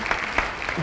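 An indoor audience applauds a guest being welcomed, a short burst of steady crowd clapping heard close and loud.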